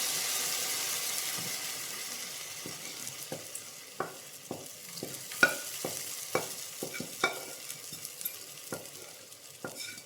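Fried coconut tempering poured into a clay pot of pumpkin curry, giving a steady background sizzle. Sharp scraping knocks of a spoon stirring against the pot sound at irregular intervals, close by and with no talking.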